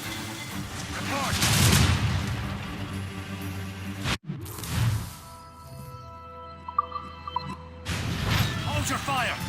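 Ship cannons firing in Assassin's Creed Rogue, heavy booming volleys with rumbling tails amid naval battle sounds, a lull in the middle and another barrage at the end, with voices talking over the action.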